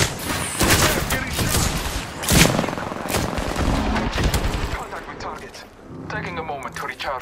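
Gunfire in the video game Apex Legends, bursts of rapid automatic shots and booms in quick succession, loud and close, with voices talking over parts of it.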